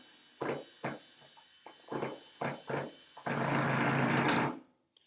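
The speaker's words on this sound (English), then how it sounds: "Stripping the screw has a very distinct sound." Cordless drill stripping a screw: a run of short ratcheting bursts, then one longer, louder grinding burst as the bit slips and chews the screw head, close up with no talk.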